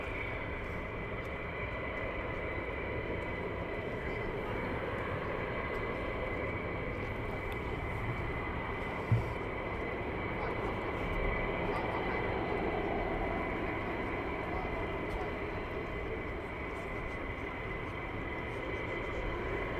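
Reaper aircraft starting up at RAF Lakenheath give a steady, faint, distant droning hum that holds evenly throughout, with a single brief click near the middle.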